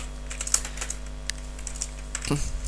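Code being typed on a computer keyboard: quick, uneven clacking keystrokes at close range over a steady low electrical hum.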